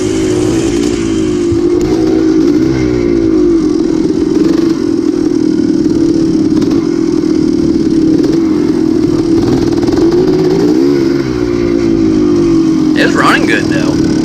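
Motorcycle with extra horsepower and weight churning through mud, its engine droning loudly and steadily with rising and falling revs, close and continuous, and a rider's voice mixed in.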